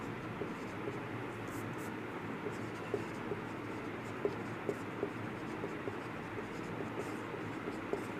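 Marker or chalk writing on a board during a Hindi-language physics lecture on electrostatics, heard as faint, irregular tapping and scratching strokes over a steady room hiss, with no speech over the strokes.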